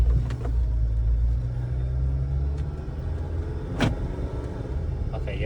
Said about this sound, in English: Let's go for a quick drive though and see if we can see what the shaking is.